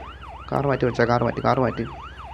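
A vehicle siren wails up and down in a repeating sweep at moderate distance, with a brief burst of people talking over it in the middle.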